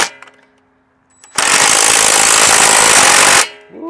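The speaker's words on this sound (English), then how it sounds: "that's the impact action of the driver and the threads of the tapcon really biting into the brick" A loud, steady burst of impact driver hammering as a Tapcon screw threads into brick, lasting about two seconds and stopping abruptly, with brief quieter handling noise before and after.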